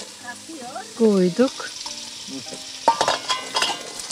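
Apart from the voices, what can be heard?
pumpkin sautéing in a pan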